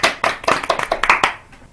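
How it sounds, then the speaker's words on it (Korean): A small group claps briefly in a studio talk-show setting, a short burst of quick, close handclaps that fades out after about a second. "박수 한번 쳐드릴까?"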